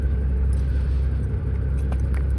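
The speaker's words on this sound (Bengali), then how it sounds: "কত বড় একটা বোট আইতে আছে। আমাদের দেশে লঞ্চের জন্য ঠিক এমনই একটা শব্দ হয়" A large boat engine approaching on the water gives a deep, steady, close rumble that holds constant throughout, with faint clinks on top.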